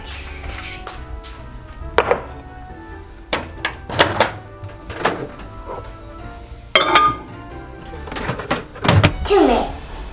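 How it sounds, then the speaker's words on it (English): An Oreo cake goes into a microwave amid a series of close thunks, clinks of dishes and a door closing, irregular knocks scattered over ten seconds with occasional voices underneath. "We're gonna put in microwave."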